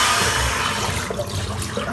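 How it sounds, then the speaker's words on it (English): Soapy, lather-filled water drains from a sink after a shave with a silvertip brush, a steady gurgling rush that fades toward the end, close by with no talking. "I'm going to empty the sink out here because there's so much lather created with this."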